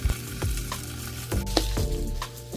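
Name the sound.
rib eye steak searing on a grill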